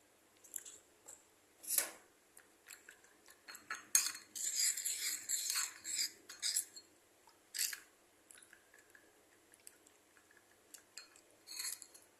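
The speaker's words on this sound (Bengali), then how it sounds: "এখন এটার মধ্যে জল দিয়ে এটাকে গুলবো" A spoon clinks and scrapes against a bowl, stirring chilli-heavy ground spices into water until smooth, with several distinct bursts of metallic tapping and scraping separated by quiet gaps.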